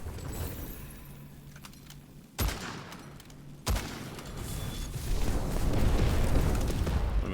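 Gunshots in the video game Witchfire: two sharp, loud cracks a little over a second apart, standing out from a low ambient background that grows into a steady rumble.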